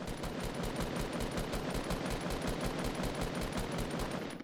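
Rapid automatic gunfire in Fortnite, a steady stream of evenly spaced shots rattling close and loud for several seconds.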